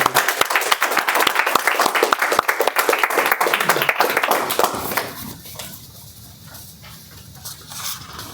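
Audience applause at a Toastmasters club meeting greeting the contest master, a brisk burst of many hands clapping that lasts about five seconds, then cuts off and leaves a faint room murmur.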